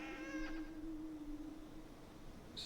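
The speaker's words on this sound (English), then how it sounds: "strange purring sound with a piping note behind it" A tabletop horror game sound effect plays faintly: a sustained strange purring drone with a thin piping note layered above it, fading out, then a brief bright chirp at the end, with no voices.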